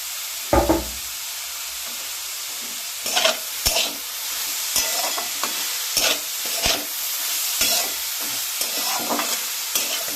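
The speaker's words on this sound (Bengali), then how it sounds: "দেখুন খুব সুন্দরভাবে ভাজা হয়ে গেছে শাকটা" Oil sizzles steadily in a pan while a utensil stirs and scrapes grass pea (khesari) leaves, with several sharp knocks against the pan; no talking.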